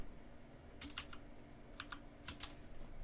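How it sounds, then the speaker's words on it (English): Faint, quiet typing on a computer keyboard: a few short bursts of light key clicks, spaced out over a few seconds against a low steady background hum, with no talking. "you're just going to type in NFT right here"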